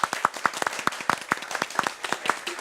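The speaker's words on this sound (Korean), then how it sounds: "여러분 박수로 맞이해 주시죠." A small indoor audience claps to welcome a panel guest, with sharp, uneven hand claps continuing steadily for a few seconds.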